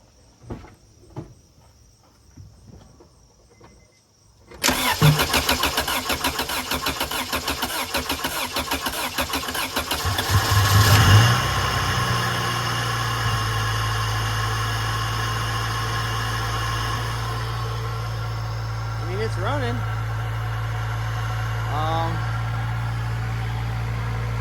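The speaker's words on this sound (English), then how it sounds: "So I gotta get this battery on and start it up." Thirty-year-old Honda engine cranking and catching after a few quiet clicks, then settling into a steady, loud idle that runs on alone.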